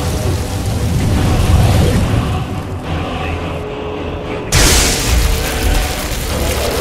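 Thunder from a dragon's lightning attack in Skyrim, heavy rumbling storm noise with a sharp renewed crash partway through, loud and continuous without talk.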